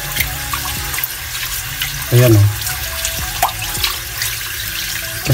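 A kitchen tap runs steadily as glutinous rice and ordinary rice are washed for biko, with water splashing and dripping into a container close by, and a brief spoken remark partway through.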